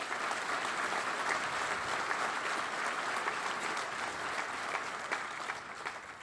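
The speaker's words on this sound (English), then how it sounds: "A round of applause." Sustained audience applause at a law enforcement awards ceremony for a police officer honoree, a dense, steady wash of many hands clapping throughout, fairly loud and even, tapering slightly at the end.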